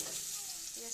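Fish roe frying on a home stove, a steady soft sizzle with faint stirring, heard alone at low level for a moment.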